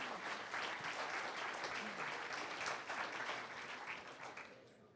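Audience clapping at a South Dakota Federation of Republican Women event hosting a property rights and CO2 pipeline debate, steady dense applause filling the room and tapering off at the end.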